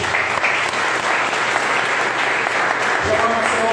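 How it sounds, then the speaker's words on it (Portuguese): A church congregation at a worship service breaks into sustained, dense applause that stays loud and steady throughout, with faint speech underneath. "Você pode aplaudir Jesus?"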